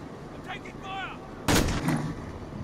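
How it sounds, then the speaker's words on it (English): A single loud, close gunshot blast with a short echoing tail in the Call of Duty Modern Warfare Warzone video game, preceded by a brief voice and low background ambience. "I'm taking fire!"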